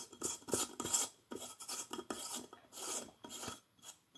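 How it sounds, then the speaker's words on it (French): A light bulb being twisted and fitted into its socket, giving close, gritty scraping and rasping in short repeated bursts, fairly quiet and alone. "On va la mettre sur la douille."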